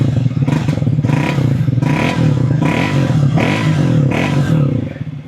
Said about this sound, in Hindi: इसकी एग्जॉस्ट की आवाज़ सुन लो।